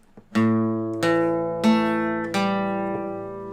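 A guitar strums a chord riff four times in a slow, even rhythm, each strum ringing out clearly and close, with no talking.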